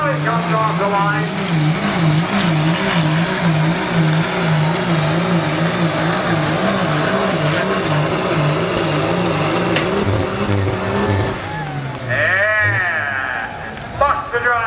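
At a 2012 Indy Diesel Nationals Work Stock truck pull, a diesel work truck roars off the line with a loud, sustained engine note whose pitch wavers continuously, then shifts near the end.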